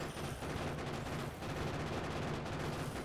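Rapid gunfire in the Factorio video game, a dense continuous rattle of shots at steady loudness throughout with no talking.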